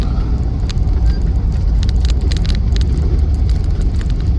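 A highly modified Land Rover Defender 110 2.2 TDCi with aggressive tyres and full sound deadening rolls down a steep hill, giving a steady, close, muffled cabin rumble of engine and road noise throughout.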